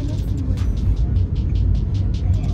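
Steady low engine and road rumble inside a moving family car, continuous and fairly loud, with faint rhythmic ticking and a voice talking over it at times.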